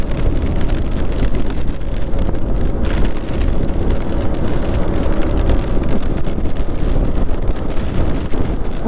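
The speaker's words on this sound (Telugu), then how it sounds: "మీరు చూస్తున్నారు లేదో ఫుల్ వర్షం స్టార్ట్ అయిపోయింది" Heavy rain driven by strong wind, captured on a GoPro camera outdoors; a dense, steady roar of rainfall and buffeting wind noise fills the whole stretch, loud and continuous with no speech.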